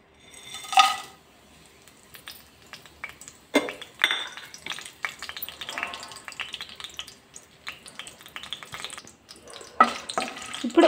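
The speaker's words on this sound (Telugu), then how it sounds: "వేయించుకోవాలి గరం మసాలాలు కొద్దిగా ఒక 30 సెకండ్ల పాటు వేయించుకోవాలి" Whole garam masala spices fry in a little oil in a pot for chicken keema biryani. A close, steady sizzle runs throughout, broken by the clinks and scrapes of stirring against the pot, with no talk.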